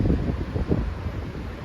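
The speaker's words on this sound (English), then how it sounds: "Sorry about the wind." Outdoor wind buffeting a microphone on a city street in Bucharest, low rumbling gusts that swell and dip irregularly, fairly loud and close, with no speech.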